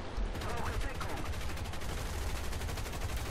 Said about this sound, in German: Ich schieß grad voll.